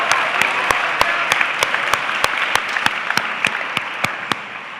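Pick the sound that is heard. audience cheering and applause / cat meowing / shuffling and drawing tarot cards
audience cheering and applause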